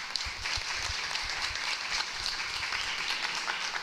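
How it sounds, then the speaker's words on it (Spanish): Steady audience applause at an event marking International Women's Day, a dense wash of clapping that holds evenly from start to finish with no voices over it. "Un aplauso muy grande"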